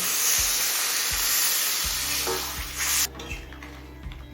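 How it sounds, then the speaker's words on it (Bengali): Warm water poured into a pan of frying yam and potatoes, loud steady sizzling and hissing that cuts off sharply near the end, leaving softer bubbling and a few light stirring knocks. "এবার দিয়ে দিচ্ছি পরিমাণ মতো উষ্ণ গরম জল"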